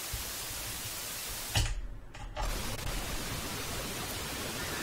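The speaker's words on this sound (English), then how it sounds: "This is white noise with a 3 dB per octave, 3 decibel per octave roll-off" Steady pink noise test signal, a broadband hiss with energy rolling off 3 dB per octave toward the highs, briefly cut to near silence for under a second midway before resuming.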